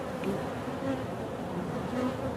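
Agitated honeybees swarm around an opened hive during an inspection, a dense continuous buzzing close by with no speech.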